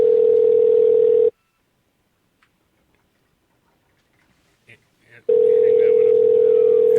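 A steady telephone dial tone plays loudly, cuts off into near silence with a few faint clicks, then resumes just as loud while a call-in is being placed.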